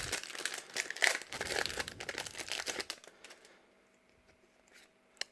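Crinkly plastic wrapper of a Pokémon Zenith Supreme booster pack torn and crumpled open by hand, a dense burst of crackling for about three seconds that then fades to near silence with a final faint rustle.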